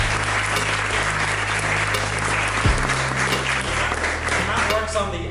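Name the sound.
audience applause for Matt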